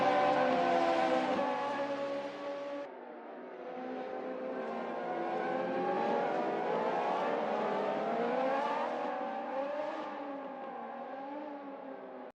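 Race car engines roaring and shifting pitch in a sim racing game, a steady loud whine rising and falling over the whole stretch.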